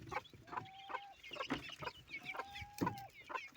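Hens cluck softly and repeatedly nearby, mixed with high peeping from chicks, a busy, irregular chatter at low volume.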